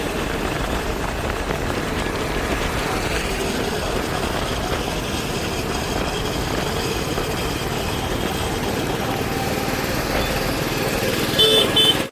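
Scooter riding fast along a road toward an army canteen in Raiwala, a constant loud broadband rush of wind and engine noise with traffic, steady throughout and with no talking.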